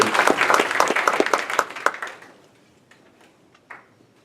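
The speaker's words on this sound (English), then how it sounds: "Applause, a nice warm welcome here for Bill Payne." An audience at a talk gives a warm round of applause, dense clapping for about two seconds that quickly thins and fades into near silence with a few stray claps.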